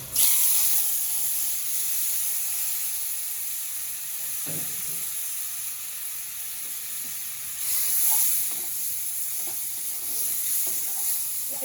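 Prawns fry in hot oil in a pan with a steady, close sizzling hiss that swells louder at the start and again near the end, with a few faint clinks of stirring.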